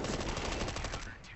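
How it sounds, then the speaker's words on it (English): Rapid automatic gunfire from a multiplayer video game rattles continuously, loud and dense, tapering slightly toward the end with no voice over it. "Why do you keep trying to shoot me?"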